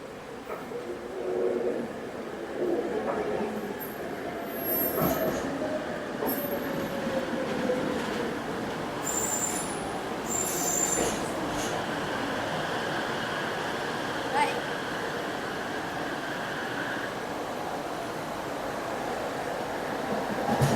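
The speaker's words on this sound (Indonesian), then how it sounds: "LRT-nya udah mau sampai." A Malaysian LRT light rail train pulls into a station, its wheels squealing with a high metallic whine over a steady rumble and a few faint clicks, heard from the platform with distant voices.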